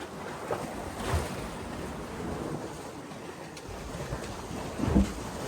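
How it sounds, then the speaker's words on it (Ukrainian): Steady broadband wash of Mediterranean surf rolling on a beach in Salou, Spain, with a few louder swells breaking, continuous and moderately loud. "Море."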